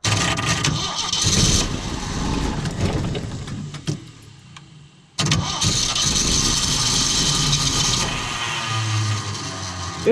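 A worn Jeep CJ5 engine cranks and catches, revs loudly and rough, dies away, then fires again and holds a steady, throaty idle close by.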